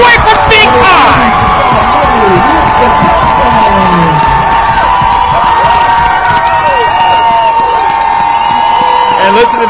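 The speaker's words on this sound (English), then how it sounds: "And listen to this crowd." Loud, sustained cheering and shouting from a high school football crowd right after a touchdown in an Ohio Division 2 regional semifinal, a dense roar of voices with whoops that holds steady throughout.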